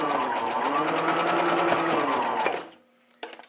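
A sewing machine runs steadily, stitching an elastic band forward and then reversing, with a continuous close motor whir that stops, followed by a brief burst of stitching.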